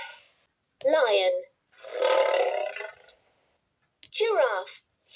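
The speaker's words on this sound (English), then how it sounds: "Lion." A short lion roar sound effect plays from an electronic LeapFrog 100 Words children's learning book, with two rising roars separated by a broader growl, each loud and close and heard alone.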